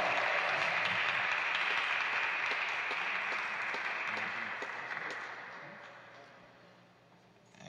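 A congregation at a Catholic vigil Mass claps in a sustained, fairly distant round of applause that holds steady before slowly tapering off toward the end.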